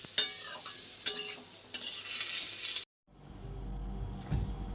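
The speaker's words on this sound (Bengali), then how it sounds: "কখন থেকে ভাজছি তো এই পটল" Pointed gourd (potol) fries in a pan, sharp stirring scrapes and clinks over a bright sizzle, then a brief cut to quieter, softer frying with low rumble.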